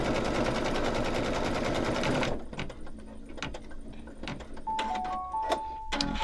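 An embroidery machine stitches a snowman mug rug with a fast, steady mechanical chatter that stops partway through, leaving quieter clicks, handling noises and a few brief tones.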